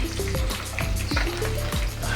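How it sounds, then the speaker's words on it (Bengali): Shrimp and tengra fish fry in oil in a pan with a steady close sizzle and crackle, punctuated by occasional stirring scrapes. "মাছ ভাজা হতে থাক"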